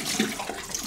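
Fingers are rinsed under a running tap after working a shaving brush knot: a brief, even gush of splashing water lasting under a second.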